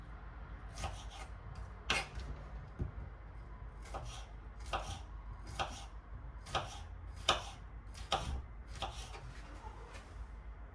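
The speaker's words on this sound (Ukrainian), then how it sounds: "буду нарізати тепер червоний також. Так, дрібнесенько" A knife finely chopping a red vegetable for a mushroom New Year salad made without mayonnaise, sounding as crisp, evenly spaced taps on a board, close and fairly quiet, with no talking.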